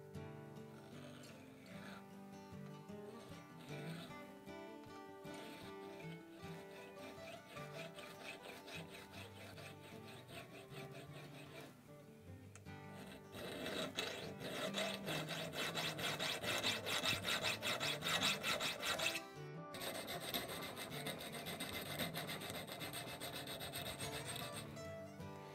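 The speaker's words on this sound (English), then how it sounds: "Use the file, round file, to cut the choil out of here." Continuous rasping of a round file cutting the choil into a steel knife blade, rhythmic scraping strokes that grow louder and harsher partway through, close and without speech.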